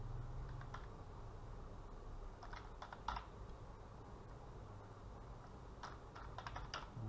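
Quiet typing on a computer keyboard, short bursts of soft key clicks separated by pauses over a low steady hum.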